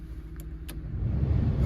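A Ford Crown Victoria starts up: a couple of brief clicks, then the engine catches and rumbles low and steady, close by, with no talking.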